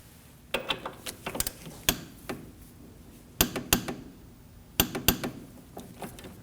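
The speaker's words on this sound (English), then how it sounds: "we can torque this to 20 foot-pounds" Clicks from a torque wrench snugging down the front CV axle nut on a 2003-2006 Subaru Baja 2.5L H4, tightened to 20 foot-pounds. The clicks are sharp and close, coming in separate bursts of two or three with short pauses between them.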